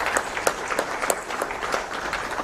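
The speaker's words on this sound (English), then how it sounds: "This deserves another round of applause." Audience applause at a memorial lecture in a hall, a steady burst of many people clapping with some sharper individual claps standing out.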